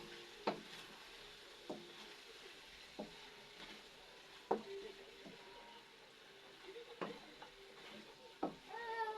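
Chicken and rice are stirred in a pan over a faint background sizzle, with a utensil scraping and knocking in irregular, distinct strokes several seconds apart.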